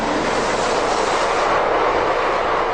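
Modern Spanish commuter train running on rails, a loud continuous broadband rush and rumble that holds steady throughout, close and without speech.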